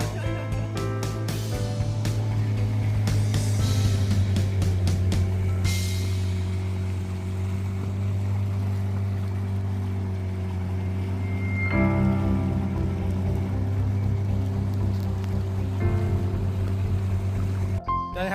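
Boat engines droning steadily on a quiet swamp, a continuous low motor hum running throughout with a brief swell in the middle, heard up close and without speech.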